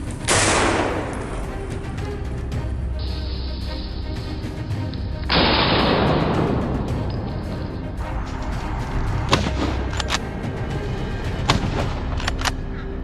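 Gunshots fired at wild boars in a snowy Alaska setting: two loud, sharp blasts several seconds apart, each with a ringing decay, over a steady background rumble.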